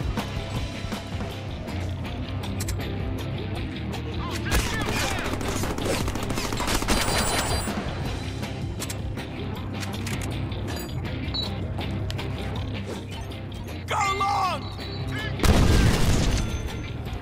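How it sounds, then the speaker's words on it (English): Machine gun fire in the Deadpool video game, rapid bursts of gunshots with booms and clattering mechanical game effects, a voice talking at times amid the shooting. "Now I have a machine gun."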